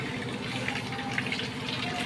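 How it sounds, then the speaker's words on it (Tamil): Hot water poured from a vessel while mixing sugar and salt for homemade parotta dough, a steady splashing stream running close to the microphone for the whole moment with no talking. "கொஞ்சம் சுடு தண்ணி ஊற்றிக்கோங்க."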